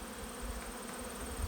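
Honey bees crowd a nuc box during a queen split install, their buzzing a steady dense drone that holds close and even throughout, with no voices.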